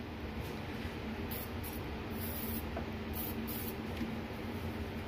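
Nearly empty can of PB Blaster penetrating oil sprayed onto stuck engine bolts, a faint steady hiss with a few brief sputtering bursts throughout.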